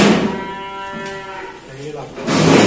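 Young male Limousin calf, about five months old, at a cattle sale lowing twice in close, drawn-out moos with a rising, wavering pitch, heard clearly over a faint background.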